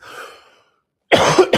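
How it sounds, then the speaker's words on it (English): A man gives a faint breath, then after a short silence lets out two loud, close coughs in quick succession. "But I apologize, folks, for my coughing."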